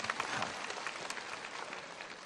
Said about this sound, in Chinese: 给自己一个掌声，好不好？